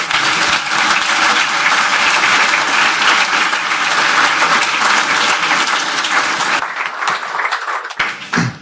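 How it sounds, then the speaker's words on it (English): An audience at a security conference talk breaks into loud, dense applause that continues strongly before thinning into scattered claps and a brief pause near the end. "Please applause."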